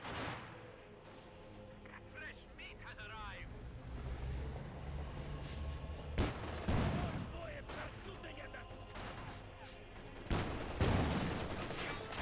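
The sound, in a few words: MG34 machine gun fire in the video game Company of Heroes 2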